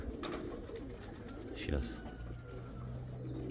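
White pigeons coo with low, soft, repeated calls, with a brief rush of wings or movement partway through and someone talking briefly over it.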